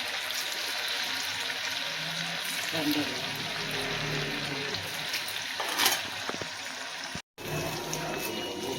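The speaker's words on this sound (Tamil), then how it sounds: "அவ்வளோதாங்க, எண்ணெயில் விட்டாச்சு. இது அப்படியே வேகட்டும்." Paneer dropped into hot oil for paneer 65 sizzles in a steady, even hiss that carries throughout, loud and close, with a brief dropout near the end.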